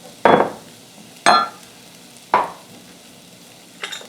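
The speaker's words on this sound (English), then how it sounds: "So I'm putting in those 2 tablespoons of garlic and 2 tablespoons of ginger and the coriander seeds" Three loud, sharp sizzling bursts, each fading quickly, as garlic, ginger and crushed coriander seeds are added to a hot pan, followed by a fainter fourth hiss.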